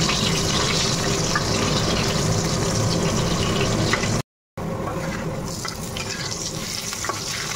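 Thick pieces of fish fry in a pan, a loud continuous sizzle and crackle close by, broken by one brief cut of silence midway.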